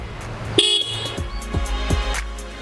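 A TVS Apache RTR 160 4V motorcycle horn honks in a few short, loud blasts over a running engine, close up.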